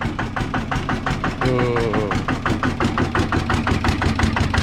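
A farm tractor engine fitted with a custom racing exhaust pipe idles loud and close. Its rapid, even pulses throb throughout, with a brief rising whine partway through.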